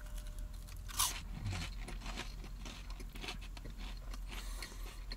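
Quiet crunching and chewing of big seasoned curly fries close to the mic, a sharp bite followed by softer repeated crunches.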